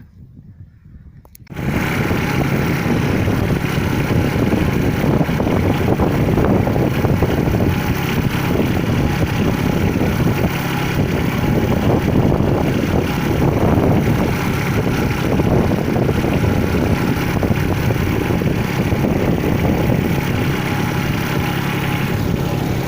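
A PTO-driven mini mulcher on a tractor runs in a field, starting abruptly after a brief quiet moment and then holding a loud, steady, continuous mechanical drone with some wind buffeting.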